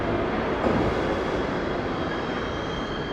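A steady, broadband rumble of a passing New York subway train fills the clip, loud and continuous with a faint high whine, no voices.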